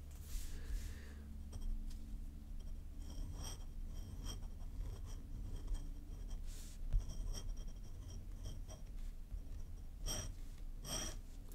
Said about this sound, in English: It's kind of glass on paper.